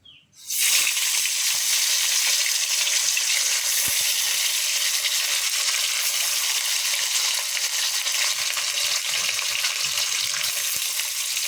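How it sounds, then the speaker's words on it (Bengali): Bele fish dropped into hot oil in a wok, bursting into a loud, dense, continuous sizzle that holds steady close by. "আমার কড়াইয়ের তেলটা গরম হয়ে গেছে আমি এখন এই মাছগুলো ছেড়ে দেবো ভেজে নিই মাছগুলা"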